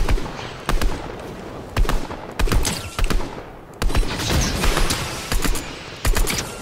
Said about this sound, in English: that's with a ranger assault rifle